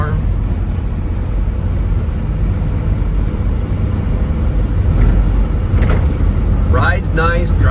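A 1969 Chevrolet C10 short-bed pickup with a 350 V8 and automatic transmission cruises down the road, a steady low engine drone and tyre rumble under road noise that stays constant, with a brief voice near the end.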